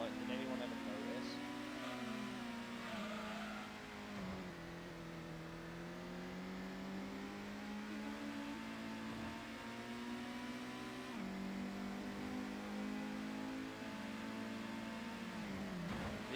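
Race car engines in the video game Gran Turismo, including a Mitsubishi 3000 GT with long gearing, drone steadily throughout, pitch rising and falling with gear changes, with a voice talking over the racing.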